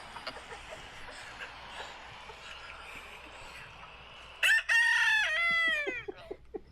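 A rooster crows once nearby, loud and drawn out with a falling tail, after a stretch of quiet outdoor hiss and faint chatter.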